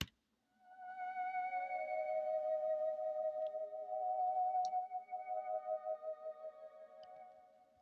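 Sustained ambient synth pad with a soft, wide tone, layered over sampled guitars in a hip-hop beat built in Logic. It swells in, holds steady, then takes on a gentle pulsing tremolo toward the end, with no voices present.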